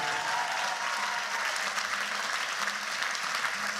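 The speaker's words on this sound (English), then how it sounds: "round of applause, the lovely string section" Audience applause for the string section at an album launch concert at Joseph Row, a steady, dense wash of clapping that holds evenly across the whole stretch without voices.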